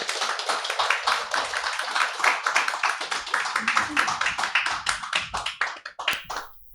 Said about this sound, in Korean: 여러분들이 큰 박수로 좀 환영해 주시고 또 힘을 주시면 잘할 줄로 믿습니다.